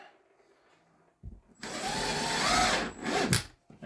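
A power drill drives a screw through a half-inch drywall patch in a small wall repair, with a short whirring burst that climbs steadily in pitch and then stops abruptly. The sound is close and alone, after a near-silent start.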